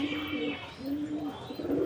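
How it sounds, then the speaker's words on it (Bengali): A pigeon coos nearby in soft, low, throaty phrases repeated a few times over a steady background hiss. "কিন্তু এই পায়রাটা কার"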